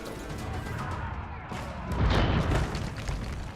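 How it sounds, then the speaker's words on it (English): Bombard cannons firing in the video game Age of Empires 4, coming through as a dull heavy boom and crash swelling near the middle, set within a busy battle din. "Bombards firing away."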